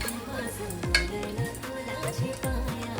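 Homemade masala spice mix frying and being stirred in a pan for an Agri-style home cooking recipe, with steady close sizzling and several scraping stirs of a spoon against the metal.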